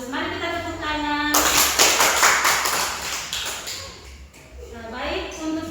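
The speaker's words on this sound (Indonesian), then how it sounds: "Mari kita tepuk tangan" Classroom pupils clap their hands together in a burst of dense, close applause lasting a few seconds, with a teacher's voice speaking before it and again as the clapping fades.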